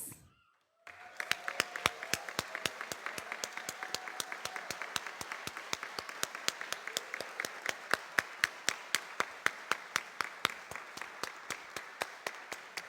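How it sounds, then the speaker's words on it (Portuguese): An audience at a solemn session in Londrina claps together in a steady, rhythmic unison beat, loud and sustained for about twelve seconds after a brief quiet start. "Ecoe nessas palmas."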